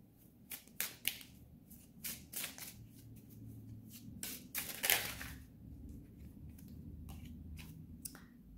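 Tarot cards being drawn and handled, with quiet papery slides, taps and sharp snapping flicks in irregular bursts, close and soft.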